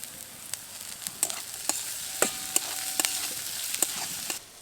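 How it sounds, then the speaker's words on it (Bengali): Onion, capsicum and green chili stir-fry in a pan with a steady sizzle, while a spatula scrapes and taps against the metal in sharp strokes about once a second throughout. "এবার পেঁয়াজটাকে বাদামি করে নেড়ে নেব।"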